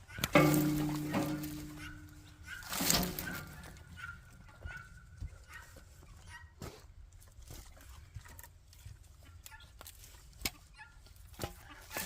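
A chicken clucks nearby in a yard during fall pruning and cleanup, with a loud burst of squawking at the start, then quieter scattered clucks and clicks against a calm outdoor background.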